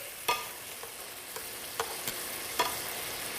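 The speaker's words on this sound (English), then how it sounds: "Okay, we're just browning those." Meat browning in a frying pan, giving a soft, continuous sizzle with a few light clicks and scrapes of a utensil spaced through it, quiet and close with no voices.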